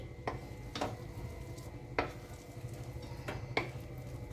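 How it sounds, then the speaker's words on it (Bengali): A spoon stirs chopped coriander into a potato filling for masala dosa in a kadai, giving four or five separate metallic scrapes and taps at an even pace over a quiet background. "ভালো করে মিশিয়ে দিচ্ছি ধনে পাতা কুচিটা"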